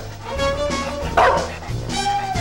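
A bulldog puppy yips and barks in a few close, high, insistent bursts, with whimpering tones between them, loud and clear with no talking.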